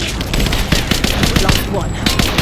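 Rapid automatic gunfire in the action game Rise of the Tomb Raider, loud and continuous with sharp repeated shots, and voices faintly mixed in underneath.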